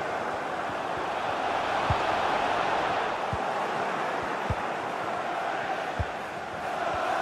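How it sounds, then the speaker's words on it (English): Stadium crowd in FIFA 23 roars as a sustained, distant-sounding wash of cheering, with a few sharp thuds of ball kicks scattered through it. "The crowd certainly think so. Just listen to them."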